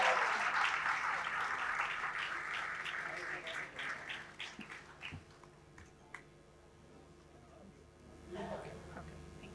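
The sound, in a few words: audience applause at awards ceremony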